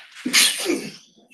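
A single sharp sneeze from a person at a meeting, a quick intake then a loud burst that trails off, with quiet room sound around it.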